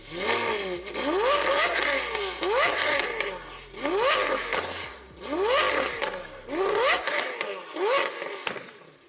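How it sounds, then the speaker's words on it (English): A Lamborghini Aventador SV's V12 engine is revved repeatedly, about five rising blips in a row with pauses between them, loud and close, with a low idle rumble underneath at first. "what really sets the Aventador aside is, again, that V12 that provides this wonderful sonorous sound"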